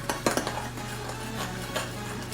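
A spoon scrapes and clinks against a bowl while stirring cookie mixture, a few sharp knocks at first, then softer scraping strokes.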